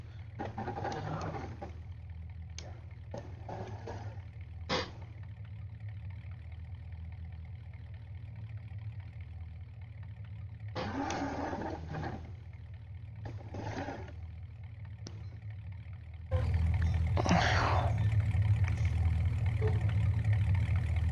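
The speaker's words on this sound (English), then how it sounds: "The truck sounds great." A truck engine idles in the Farming Simulator 19 video game, a steady low rumble running the whole time that grows louder near the end, with someone talking over it at intervals.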